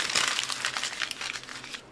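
Paper trash crumpled close up in the hands, giving a continuous, dense crinkling and crackling for about two seconds with no voices.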